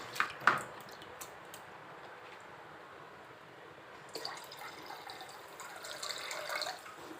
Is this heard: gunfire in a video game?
no